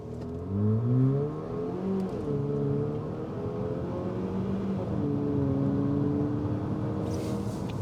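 A 2022 Haval H6 GT engine revs and climbs through gears in race mode with a deep, throaty exhaust drone, sustained and steady, fairly loud throughout.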